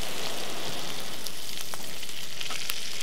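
Onion skins blistering in a pan over a barbecue, giving a steady, close crackling sizzle with scattered sharp pops and no voices.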